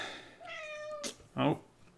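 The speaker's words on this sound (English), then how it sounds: "my cat would like to have her input heard" A pet cat indoors gives a drawn-out, sliding meow followed by a shorter, sharper second call. Both are close but fairly quiet.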